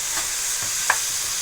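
Cubed onions frying in ghee in a pan, giving a steady, close, even sizzle with a single faint clink partway through.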